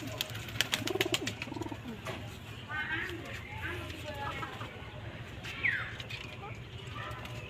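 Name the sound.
pet pigeons cooing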